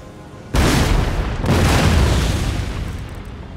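Cannon volleys boom in the Napoleonic-era strategy game Empire: Total War, two heavy blasts landing close together, each followed by a long rolling rumble that slowly fades.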